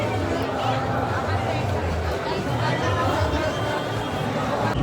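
A crowd waits at the ticket entry of the Digital Mahakumbh Anubhuti Kendra in Prayagraj, filling the space with a steady, dense babble of many overlapping voices at close range.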